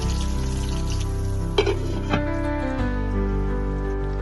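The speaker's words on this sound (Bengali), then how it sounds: "দেখো আমি আলুগুলোকে লাল লাল করে ভেজে নিচ্ছি" Potatoes frying in a pan with salt and turmeric for a cauliflower roast, a steady close sizzle with a couple of brief stirring clatters partway through.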